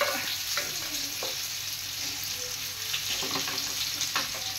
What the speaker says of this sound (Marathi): आता हे मासे चांगले तळून घेतले तेलामध्ये